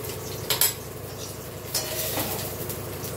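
A metal wok (kadai) is handled on a home stove while dal cooks, with two or three brief clanking knocks over a low, steady kitchen background.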